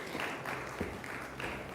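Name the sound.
audience applause at a conference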